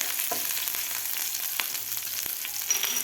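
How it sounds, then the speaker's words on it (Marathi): Green chillies fry with garlic in hot oil for a rustic amaranth-leaf vegetable dish, giving a steady close sizzle with a few faint scrapes and ticks throughout, no voices. "आता मिरचीसुद्धा आपल्याला व्यवस्थित फ्राय करून घ्यायची आहे लसणाबरोबर"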